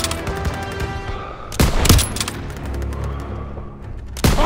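Gunfire rings out in the World War II shooter Call of Duty: WW2, with dense, loud battle noise punctuated by sharp shot bursts and heavy booms at close range.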